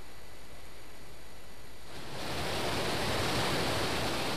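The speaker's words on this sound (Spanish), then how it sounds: "el río Cavagra tiene un gran caudal en este momento" The Cavagra river runs with a large volume of water, a constant broadband rushing roar that swells noticeably louder about halfway through and then stays strong and steady, with no one speaking.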